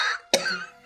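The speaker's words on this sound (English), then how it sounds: "But the cough is not even my problem." A woman coughs once, sharply and close up, after a breathy exhale, with no talk.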